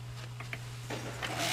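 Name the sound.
drop spindle spinning in a Tibetan bowl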